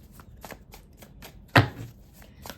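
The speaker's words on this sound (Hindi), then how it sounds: "let's me shuffle the cards for you" Tarot cards being shuffled by hand, a series of quick papery riffles and taps in a regular rhythm with one louder slap near the middle, close and clear with no talking.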